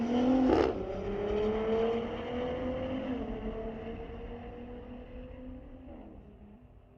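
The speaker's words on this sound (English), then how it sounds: "Cool run for the Audi." Audi car on a drag racing run at a street legal drag strip, an engine revving up through rising gear pulls that fades as it moves away, loud at the start and faint by the end.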